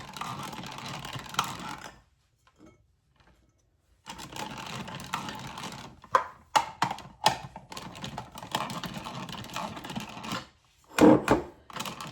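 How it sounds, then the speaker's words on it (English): A whole block of cheese rubbed against a hand grater in a home kitchen, heard as bursts of quick scratchy rasping strokes separated by short pauses and one near-silent gap, close and fairly loud. "So we're going to just grate this. I'm going to grate the whole block."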